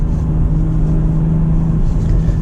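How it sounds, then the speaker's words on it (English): A BMW M340i xDrive on an early winter morning drive, its exhaust giving a low, steady burbling rumble that stays close and constant throughout, with no voices. "oh, it's got a little burble from the exhaust, too"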